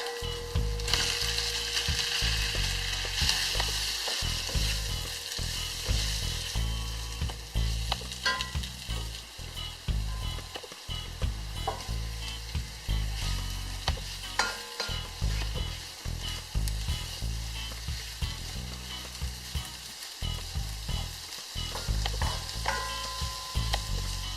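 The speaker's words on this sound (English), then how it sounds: "We're going to cook the turkey until it's nicely brown." Ground turkey browning in a pan with garlic, a steady close sizzle broken by repeated scraping, stirring strokes of a utensil against the pan throughout.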